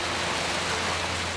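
Heavy rain suddenly pours down outside a school classroom, making a loud, unbroken, hissing roar that stays steady throughout, with no voices.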